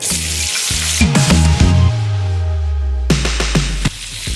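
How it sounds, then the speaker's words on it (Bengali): Diced potato hits hot mustard oil with a loud, dense sizzle and crackle, punctuated by scraping stirs and clunks of a spoon against the pan, close and continuous without speech. "একটা আলুকে এইভাবে আমি ডুমো ডুমো করে কেটে রেখেছিলাম, সেটা এবার এর মধ্যে ভেজে নেব।"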